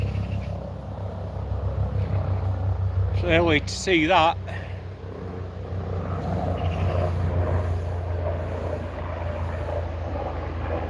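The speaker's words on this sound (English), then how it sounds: "We've got a military helicopter going over." A military helicopter passes overhead, its steady low rotor drone rumbling throughout, with a person talking briefly over it.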